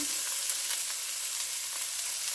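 Onion and pepper sizzle and fry in a hot pan for a sausage, egg and potato breakfast casserole, a steady, close, even crackle with no talking.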